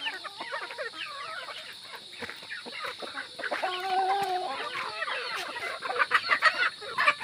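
Several chickens cluck and squawk close by in a busy, overlapping chorus that grows louder toward the end, with no talking.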